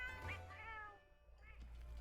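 A cat meows in the video game Monster Hunter Rise, drawn-out nasal mewing rising and falling over a low steady game hum, fairly quiet in the mix, with no speech over it.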